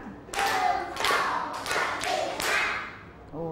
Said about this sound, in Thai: กลุ่มที่สองปรบมือห้าครั้ง